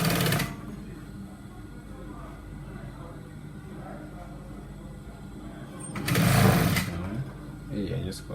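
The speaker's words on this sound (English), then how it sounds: "you're going to sew it straight down" A sewing machine runs continuously while stitching trouser fabric, a steady whirring mechanical hum with a couple of louder bursts near the start and end.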